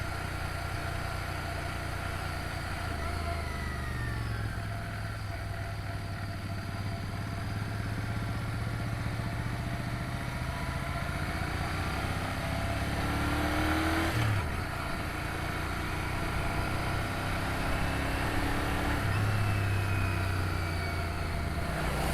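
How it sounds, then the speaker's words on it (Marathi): A vehicle's engine hums and drones steadily while driving on a Konkan coastal road trip near Devgad, with shifting engine tones and occasional rises in pitch throughout. "गाडी भारी आहे. आवाज आहे भाई आवाज."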